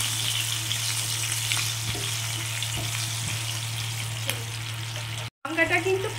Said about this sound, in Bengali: তারপর 3টে মতো কাঁচা লঙ্কা এর মধ্যে দিয়ে ভালো করে কাঁচা লঙ্কাটাকে ভেজে নিই